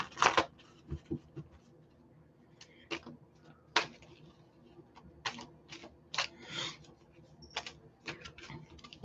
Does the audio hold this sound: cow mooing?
no